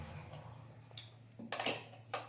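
A spoon clinks against a dish during a home meal of chicken, ghugni and bread, several light sharp taps spaced irregularly, close and quiet over a low steady hum.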